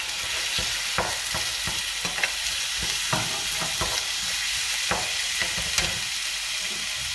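Minced meat and translucent onions sizzle in a pan, with a steady bed of hiss broken by scattered sharp taps and scrapes of stirring, close and even.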